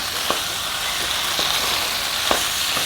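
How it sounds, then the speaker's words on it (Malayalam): Chicken frying for chicken chukka in a pan, a steady loud sizzle throughout with a few sharp scrapes of a spatula stirring and spreading the pieces, close up. "ഇതെല്ലാം കൂടെ നല്ലപോലെ ഒന്ന് ഇളക്കി പരത്തി"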